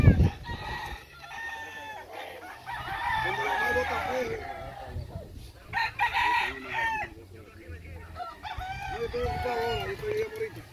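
Fighting roosters at a cockfighting gallery in Panama crow repeatedly, three or four strong drawn-out calls spread across the stretch, close and loud, with background chatter from people.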